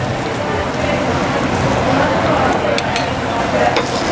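Curry leaves and spices fry in a rempah for a sardine curry, giving a steady, close sizzle with spoon-stirring scrapes continuing throughout.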